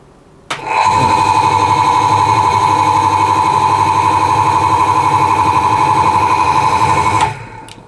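A three-phase asynchronous electric motor wired to single-phase power starts abruptly and runs loud and steady with a strong constant hum and whine for about seven seconds, then cuts off, with no talking.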